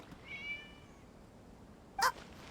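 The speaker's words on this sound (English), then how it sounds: "It was just a cat." A single cat gives a short, soft meow in Genshin Impact, followed a moment later by a brief sharp tap against a quiet, hushed background.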